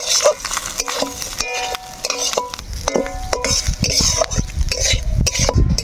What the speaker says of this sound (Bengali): এই সময় আমরা দিব হচ্ছে নারকেল কুচি নারকেলটা আমরা ভালোভাবে নাড়িয়ে নিব